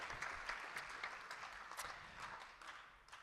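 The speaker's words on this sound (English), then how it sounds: "Big round of applause for Kay and the whole team here at Poetry Project" Faint, distant round of applause from an audience at a New Year's Day poetry marathon reading, steady soft clapping throughout.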